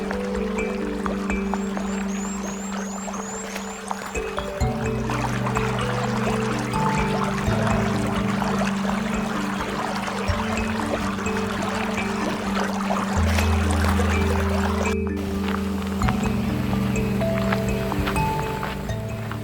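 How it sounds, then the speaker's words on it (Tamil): Constant rushing water of small, cold, clear mountain streams on Mount Esja, Iceland, flowing steadily, with a low droning hum underneath throughout. "ஆனால் இங்கே நிறைய சின்ன சின்ன நதிகள் இருக்குது."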